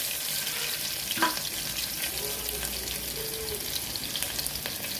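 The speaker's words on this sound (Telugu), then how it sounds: "ఆవాలు చిటపట అన్నప్పుడు ఉల్లిపాయలు వేస్తాను." Onions tipped into hot oil where mustard seeds are already crackling, making a dense continuous sizzle with faint pops, close and even, and no one speaking.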